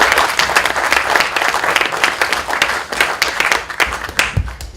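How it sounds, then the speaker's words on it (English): Audience clapping for a filmmaker from Bristol at a fan event, a dense, steady burst of many hands filling the room, close and loud throughout with no talking. "let's give him another clap"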